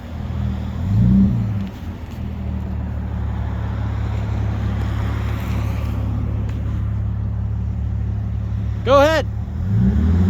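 An Audi A5 with the 3.2 engine, rear two mufflers deleted and replaced by 2.5-inch pipe with chrome tips, drones and revs close by, with a brief voice and a short whistling squeal near the end.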